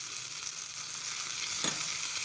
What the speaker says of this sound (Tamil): நல்லா கிளறி விட்டு அந்த வெங்காயம் வந்துட்டு கோல்டன் ப்ரௌன் கலர் அளவுக்கு வதங்கி விட்டுக்கலாம்